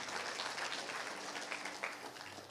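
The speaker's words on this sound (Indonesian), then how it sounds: "Beri tepuk tangan yang meriah buat Tuhan." A congregation at a morning prayer service claps in steady, even applause that fills the room at moderate volume, with a few faint voices mixed in and no single voice standing out.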